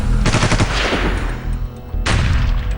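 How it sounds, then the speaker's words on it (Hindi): Machine gun fire in war-torn South Sudan during fighting between the army and rebels: two loud, dense bursts of rapid shots, the first lasting over a second and the second starting near the end, close and harsh with no talking. "रात और दिन गोलियां बरस रही हैं"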